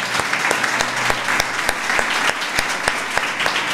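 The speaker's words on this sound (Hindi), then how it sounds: "यीशु के लिए जोरदार तालियां बजाएं।" A congregation gives loud, steady applause during a Christmas sermon in Urdu and Hindi. Dense clapping fills the room with regular sharp accents throughout, and a low hum sits underneath.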